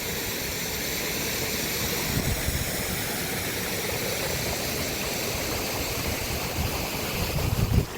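A waterfall near Vadod village pours water in a steady, close, full rushing roar that never lets up, with no voices over it.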